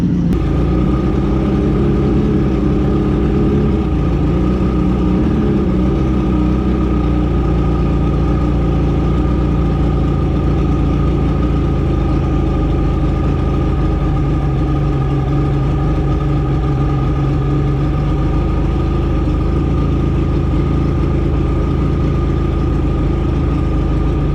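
A 1985 Mercury outboard engine idles steadily while its fuel-air screws are tuned, giving a continuous, loud, close mechanical hum with no speech.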